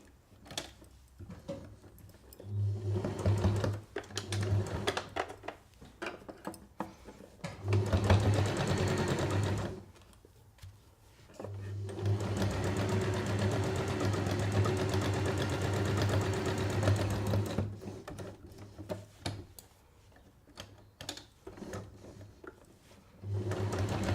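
A sewing machine with an overcast stitch foot runs along the edge of a fabric kitchen towel in several bursts of rapid, close mechanical whirring, with quiet pauses between runs.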